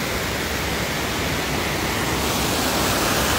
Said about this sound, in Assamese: আমি এতিয়া একদম জলপ্ৰপাতৰ ওচৰত আছোঁ, তাৰমানে ৱাটাৰফলৰ একদম ওচৰতে ৰখি আছোঁ